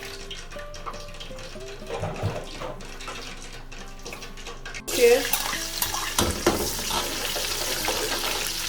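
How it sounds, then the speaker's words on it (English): Water is poured into a cooking pot holding tiny cubed yam for pottage, a rushing splash that starts abruptly and continues steadily after a quieter stretch of kitchen clatter and brief talk. "Now I'm going to add in"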